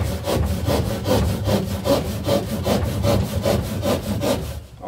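Plasterboard cut by hand with an ordinary saw, not a dedicated plasterboard saw, gives a steady rhythmic rasp of regular back-and-forth strokes, close and fairly loud, with no talking.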